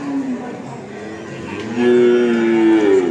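At the Jatir cattle market, where young Limousin-type calves are sold, a bovine lets out a long, loud, low moo that swells in the second half, over steady market background noise.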